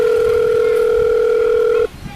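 A steady telephone ringback tone sounds while a call is being placed, holding one unbroken electronic tone for nearly two seconds before cutting off abruptly into near silence.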